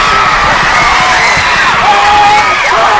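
Dense, loud crowd roar with cheering and whoops fills a school rugby match between Hilton College and Michaelhouse first teams, steady throughout with shouting voices rising above the din.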